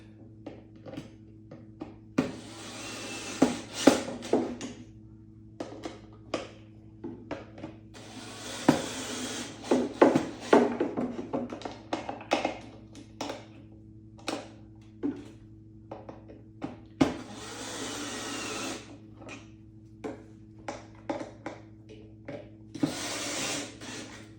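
Skateboard truck nuts being tightened with a hand tool, close by: bursts of quick ratcheting clicks repeat several times between scattered metallic taps and handling knocks, over a low steady background hum.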